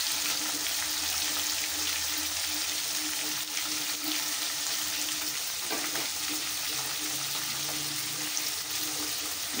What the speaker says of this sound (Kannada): ಇದು ಬದನೆಕಾಯಿ ಫ್ರೈ ಆಗ್ತಾ ಇದೆ ನೋಡಿ